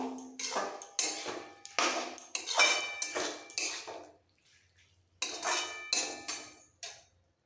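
Spicy vegetarian bean curry (shim jhal) is spooned from the pan onto a plate: close clinks and scrapes of metal utensils come in repeated bursts, with a short quiet pause before the last few scoops.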